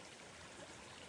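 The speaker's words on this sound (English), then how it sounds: "over here there's water running in" Rainwater runs into a yard drain during a summer rain, a steady, faint rushing trickle that holds an even hiss throughout with no voices.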